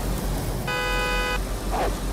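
A single steady car horn blast in the DayZ video game, lasting under a second over a continuous rumbling ambient backdrop, followed by a faint brief tone.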